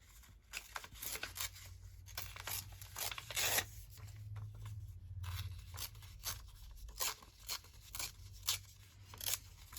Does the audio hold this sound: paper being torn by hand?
yes